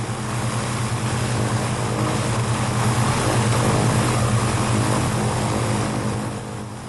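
Propeller aircraft engine at open throttle in level flight, a loud steady droning hum with a constant low throb that holds for several seconds before easing slightly at the end.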